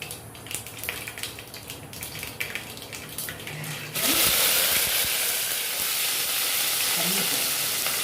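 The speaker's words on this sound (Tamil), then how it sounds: "வெடித்ததுக்கப்புறமா இந்த வெங்காயம் தக்காளி எல்லாம் போட்டு நம்ம வதக்கி எடுக்கணும்." Onion and tomato hit hot oil after the mustard seeds pop, for a Tirunelveli-style chicken curry. Quieter stirring and clatter give way to a loud, steady, close sizzle that keeps going to the end.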